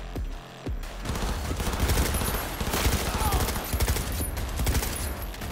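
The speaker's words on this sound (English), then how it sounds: "Oh god, the recoil on this weapon is horrible!" Automatic weapon fire in the video game Cyberpunk 2077 rattles in dense, rapid bursts that fill the scene, loud and continuous after a brief opening pause.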